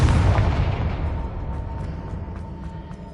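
Confringo fire spell from Hogwarts Legacy erupts in one loud, deep explosion whose boom decays into a fading crackling rumble over about three seconds.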